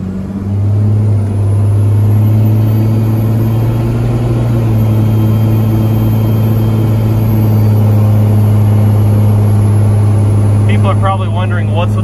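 A red 12-valve Cummins diesel truck rumbles through a U-turn, a loud, steady low drone that holds nearly unchanged throughout, with a brief voice near the end.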